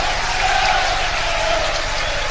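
Steady crowd applause from Swindon Town and Port Vale supporters during a tribute at a football match, a dense continuous wash of clapping with faint voices mixed in, holding level throughout.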